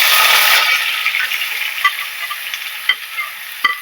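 Two medium chopped onions hitting hot oil and frying in a pan for chicken kofta curry, a loud steady sizzle that eases slightly after the first half second, with a few sharp crackles and spatters.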